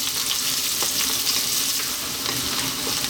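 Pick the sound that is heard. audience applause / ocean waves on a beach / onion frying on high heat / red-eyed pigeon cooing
onion frying on high heat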